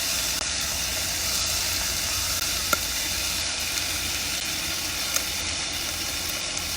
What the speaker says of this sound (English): Ooh, they are bursting already. I love it. Just a little stir.